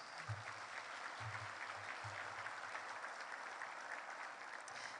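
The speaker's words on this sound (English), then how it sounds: "give them a big, warm round of applause" An audience at a city's State of the City event applauds, a steady sustained clapping that fills the stretch at moderate level, with a few low thumps near the start and no speech over it.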